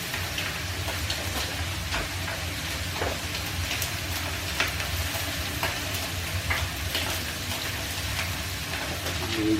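Chicken thighs sizzle and crackle in a hot pan, a dense continuous frying hiss with small pops, steady and close throughout.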